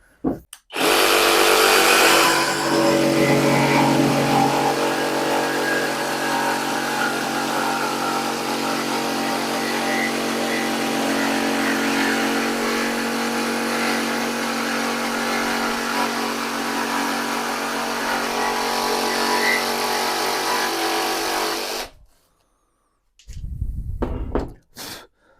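Grosser GJS 130 cordless jigsaw cutting for about twenty seconds, a loud, steady buzzing rattle that stops abruptly, followed by a brief second burst.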